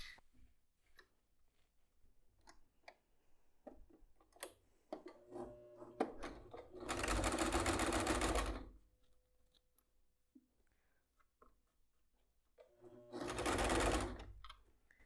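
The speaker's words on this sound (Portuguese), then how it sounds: "eu vou fazer uma costura em toda a volta aqui desse zíper" A sewing machine stitches around a zipper on a fabric bag, running in two loud, steady bursts of a couple of seconds each, separated by quieter handling noises and small clicks.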